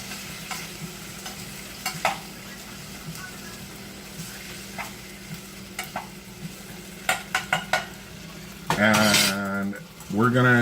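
Hash cooking in a hot pan: a low background sizzle broken by clinks and scrapes of a utensil against the pan, then a loud clattering burst near the end.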